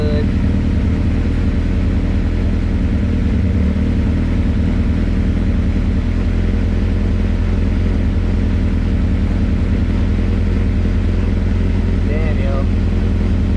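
Honda CRX with a naturally aspirated B17 engine and custom 3-inch full exhaust idles close by with a deep, steady, throbbing rumble, holding a low even drone with only slight rises and no hard revs.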